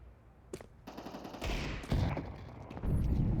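Counter-Strike gunfire on Mirage, rifles against pistols in an esports match: sharp shots and rapid bursts layered over crowd-like background noise, growing busier and denser toward the end.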